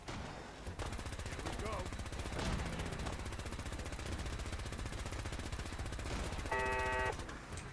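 Gunfire in the video game Fallout, with a steady stream of shots and bursts sounding over a dense, continuous game soundscape at moderate level.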